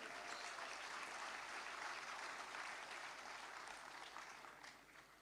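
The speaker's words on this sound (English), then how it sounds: "Big round of applause" Sustained applause from an audience at the Forum Ekonomi Malaysia 2026 launch event, a dense wash of many hands clapping that stays steady and tapers slightly at the end.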